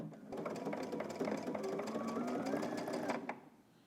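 A home sewing machine stitching steadily along a garment seam, a close, even mechanical whir with rapid needle clatter running for about three seconds before stopping.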